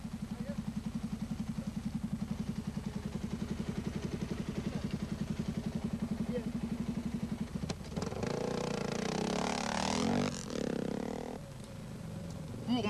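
Dakar rally motorcycle engine at a 1983 refueling stop: a steady, rapid rumbling idle for several seconds, then a louder rough revving burst with clatter, fairly close and continuous.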